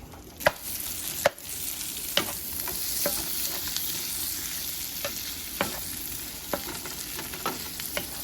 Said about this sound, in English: We're going to go ahead and add in the sausage and brown that